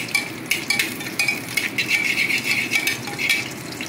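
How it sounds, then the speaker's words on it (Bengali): Whole spices such as cardamom, cinnamon, pepper, cloves and a bay leaf stirred in a hot pan, with close scraping and light metallic rattling over a soft sizzle, in quick irregular strokes. "এটা আমি এবার 2 থেকে 3 সেকেন্ডের জন্য নাড়াচাড়া করে নেব"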